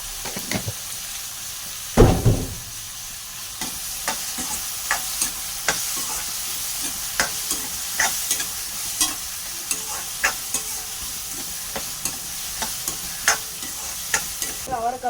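Tomatoes sauté in a pan with mustard seeds for a garlic kulambu, with a soft steady sizzle under repeated sharp scrapes and clicks of a spoon stirring. A louder knock lands near the start, and there is no talk.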